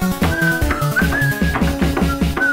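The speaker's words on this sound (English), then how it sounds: "record themselves whistling and tapping the desk" Whistling in the video game Amnesia, a clear wavering tune carried over a rhythmic tapping on a desk, close and loud; no talk.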